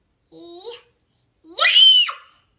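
A young girl screams and yells in two loud, shrill outbursts, a shorter cry followed by a piercing, higher scream, with brief silence between them.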